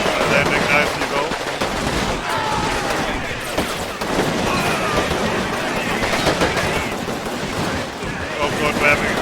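A rifle grenade and heavy gunfire in the video game Combat Mission Rome to Victory, with continuous rattling machine-gun bursts and dense overlapping shots throughout and a voice talking over the battle.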